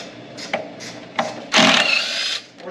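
Impact wrench working bolts loose from pinch welds on a Jeep, several short rattling bursts followed by a longer loud hammering whir, close and unaccompanied by speech.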